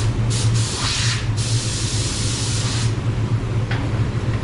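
A spray gun set to 29 PSI with the fluid tip fully open applies silver base coat paint in a steady, close hiss, with a few brief bursts where the trigger pulls and releases.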